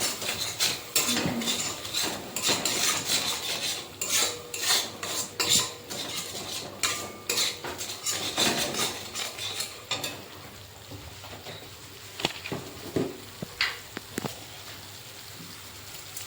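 Okra in a mustard-based curry with a little red chilli powder sizzles and is stirred in a pan, with broadband frying hiss and repeated spoon scrapes and clinks close by, busier at first and easing toward the end.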